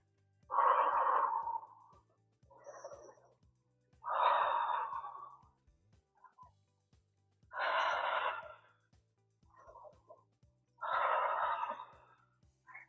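Heavy breathing during an upper-body arm workout with a resistance band sounds close and rhythmic. Strong, drawn-out exhalations alternate with softer inhalations in a steady cycle, with no talk.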